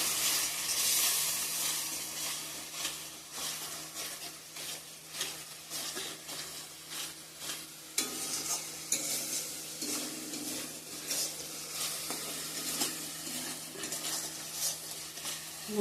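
A spice paste of onion, garlic, ginger, chilli, cumin, coriander and turmeric fries in oil in a pan, with steady sizzling and repeated metallic spoon scrapes and taps against the pan.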